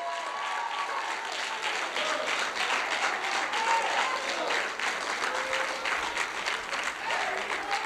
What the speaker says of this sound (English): clap your hands all over this house.